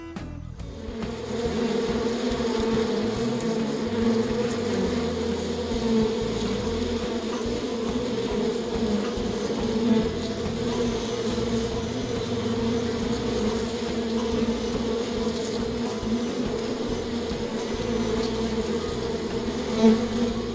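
Dense, steady drone of honey bees swarming around a commercial hive on a US bee farm, a continuous close buzzing hum that holds for the whole stretch with no talk.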